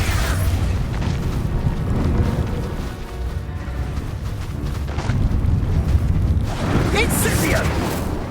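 Repeated booming blasts from the Expulso explosion spell in the Hogwarts Legacy video game, heavy low rumbles that run almost continuously, with other spell effects and brief shouted voices mixed in.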